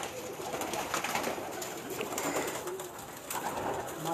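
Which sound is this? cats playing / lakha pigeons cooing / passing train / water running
lakha pigeons cooing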